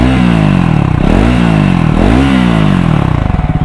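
A Triumph Scrambler 400X motorcycle engine revs hard in repeated rising bursts, loud and close, with a rough mechanical rumble throughout.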